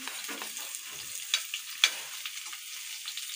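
Pork giniling being stirred and fried in a pan, with a steady soft sizzle and occasional louder scraping clinks of a utensil, fairly quiet with no talking.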